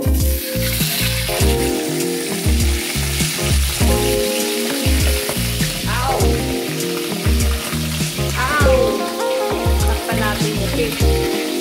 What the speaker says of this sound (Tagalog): ipiprito muna natin ang isdang pampano